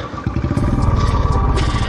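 Royal Enfield Bullet 350 motorcycle riding off-road, a steady loud thumping engine with rattling and clatter from rough ground, close and continuous throughout.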